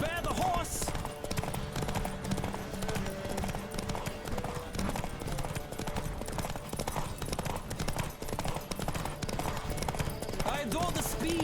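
Horse hooves gallop at full speed in The Witcher 3: Wild Hunt, a steady, rapid clip-clop running throughout under game music and a voice, with occasional whinnies.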